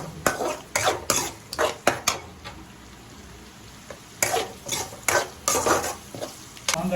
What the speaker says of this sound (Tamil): ஸோ நல்லா இந்த ஆயிலில் இந்த மாங்காய் நல்லா வதக்கி விட்டுருங்க.